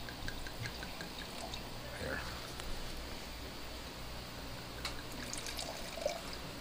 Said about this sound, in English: I'm not even pouring this right.